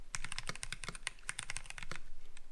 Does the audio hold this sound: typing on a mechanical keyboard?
yes